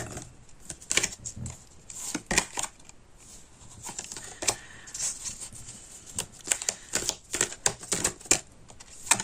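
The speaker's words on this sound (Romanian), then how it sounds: "Nu prea alunecă cărțile și am vrut să le mai amestec un pic." Tarot cards being shuffled by hand, a run of quick papery riffles and slaps in uneven bursts, close and fairly quiet, with no talking over them.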